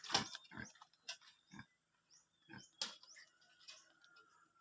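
Pig grunting at close range on a rural farm, several short rough grunts spaced irregularly with quiet gaps between them, faint background noise.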